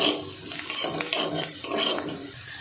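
Chana dal frying in a little oil in a pan while a spoon stirs and scrapes it steadily, with soft continuous sizzling under repeated clinks and scrapes against the metal.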